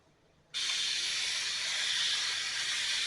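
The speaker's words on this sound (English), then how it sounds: "we're going to spray it with the water like it says." A sudden, steady hiss of fine water spray from a spray bottle onto a headlight starts after a short quiet moment and continues evenly and close up.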